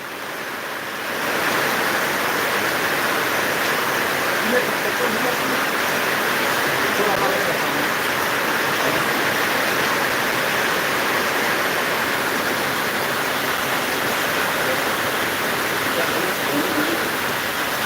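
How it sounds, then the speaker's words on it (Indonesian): Heavy rain pours down outdoors as a dense, steady, loud hiss that starts after the first second and runs unbroken to the end. "Kebetulan lagi hujannya lagi besar nih."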